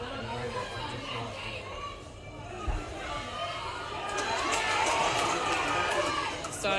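Boxing crowd at an Australian under-19 national final bout, a steady chatter and cheering that swells louder near the end, with commentators talking over it.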